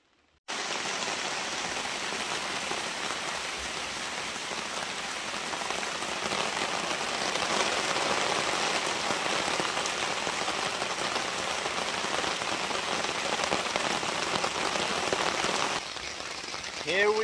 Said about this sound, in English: Well, we already know it is raining.